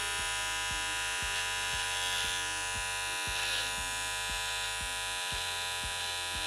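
Electric trimmer shaving a beard line, a close, steady buzzing hum with regular pulsing beats as the blades work, fairly quiet and with no talking.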